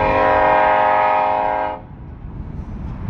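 A train horn blares long and loud, a steady chord held close for almost two seconds before it cuts off, leaving the rumble of the passing train behind it.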